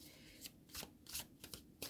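A deck of tarot cards being shuffled by hand during a card reading: several quick, soft riffling bursts and slaps in an uneven rhythm, faint and close, with no talk.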